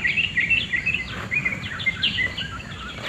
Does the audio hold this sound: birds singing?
yes